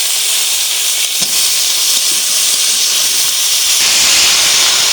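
Potatoes and flat beans fry in hot oil with mustard seed and green chilli, a loud, dense, steady sizzle and hiss held close throughout, with one brief knock partway through.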